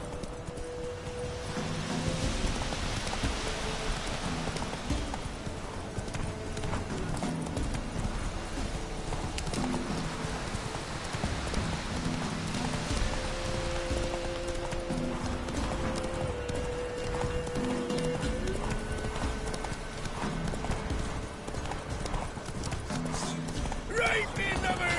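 A horse gallops in The Witcher 3: Wild Hunt with steady rapid hoofbeats throughout, and someone talks over them.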